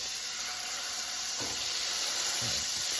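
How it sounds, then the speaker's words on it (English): A Mexican-seasoned beef patty sizzles in a hot skillet as a steady, broad hiss, with a couple of soft thuds as it settles. "It is time for our Mexican seasoned beef patty to go into our skillet."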